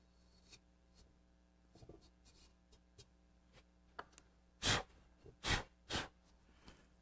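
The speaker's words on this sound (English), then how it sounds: "Just clean the foot off all the way around. It's a little bit thick right there. So shave it down a bit." Scattered faint scrapes and ticks of a tool trimming the foot of a clay pot, ending in several louder rasping shaving strokes close by, no talking.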